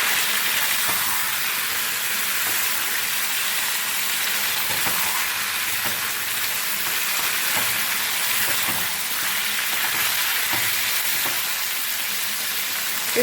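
Marinated chicken fries with golden-browned onion in a pan for chicken khichdi, a steady, close, unbroken sizzle and hiss with no talking.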